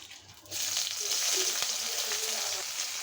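Chopped onion hits hot oil for a tempering of khesari lentils with jute leaves, a loud, steady sizzle bursting in after a quiet start and holding for several seconds.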